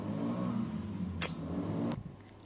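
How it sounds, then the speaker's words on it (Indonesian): A motorcycle engine revving at a neighbour's repair workshop, a steady mid-pitched drone with a couple of sharp throttle blips, heard from some distance and fairly faint before it cuts off. "ada bengkel tetangga di sini ngegas motor ribut kali"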